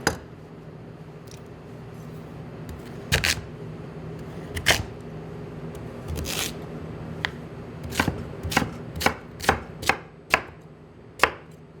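A knife slicing potatoes on a cutting board, with sharp chopping taps that are sparse at first and then come in a quickening series near the end; close and clear with quiet background and no talking.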